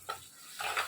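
A spoon stirs ground coriander and garam masala into dry fish in a pan, two short scraping sizzles, close and faint, the second longer than the first.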